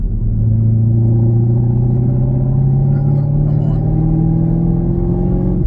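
A Chevrolet Camaro ZL1 engine pulls hard and close through the gears, a loud, steady low rumble whose pitch climbs smoothly throughout, with no talking over it.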